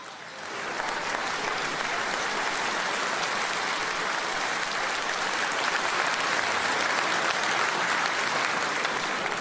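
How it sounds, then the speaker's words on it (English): A political rally crowd in Sunderland bursts into sustained applause and cheering, swelling within the first second and holding loud and steady to the end. "this is the first time ever that a crowd in Sunderland have stood up and cheered you"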